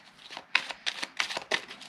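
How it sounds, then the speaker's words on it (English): A deck of cards, including flipper and jumper cards, is shuffled in quick, crisp riffling bursts, several in a row at close range with short pauses between. "So beating your deck, shuffling your deck."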